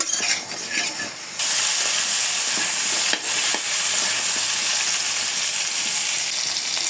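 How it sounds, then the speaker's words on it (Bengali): Eggplant pieces fry in hot oil with a pinch of turmeric, a steady, close, loud sizzle that jumps up after a quieter first second and then crackles on evenly with faint stirring clicks. "তেলটা গরম হয়ে গেছে আমি সবজিগুলো একটু ভেজে নিব"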